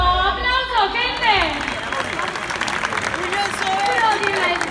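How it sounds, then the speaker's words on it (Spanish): A crowd at a rap battle cheers and applauds after a round, with loud, dense clapping, shouts and whistles that hold steady for several seconds in a noisy room. "¡Aplauso, gente!"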